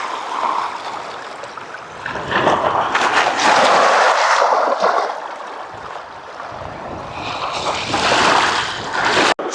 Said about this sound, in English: Hopefully you can hear the waves.